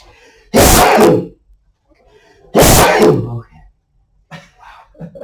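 Two loud sneezes a couple of seconds apart, close by, followed by faint murmuring.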